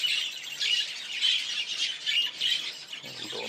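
Shrill, continuous squawking from young birds, close and insistent, pulsing in overlapping bursts for a few seconds.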